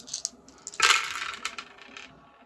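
Dice clatter onto a tabletop during a World War II board wargame, a quick bright rattle that swells and tumbles to rest over about a second, close by with no talk.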